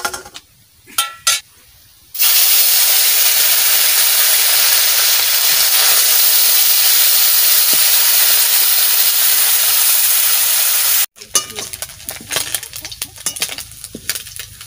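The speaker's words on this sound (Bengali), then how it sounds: "তা মাছের ঝাল করব না, মাছ ভাজা করব" Small chela fish fry in hot oil with a loud, even hiss lasting about nine seconds, framed by brief clatter and handling noises before and after.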